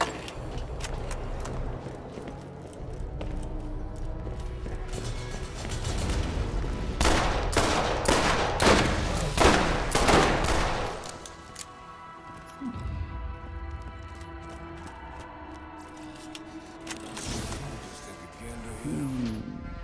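Gunfire from guns in the video game Borderlands, a loud cluster of rapid shots in the middle amid game effects, with someone talking over parts of it.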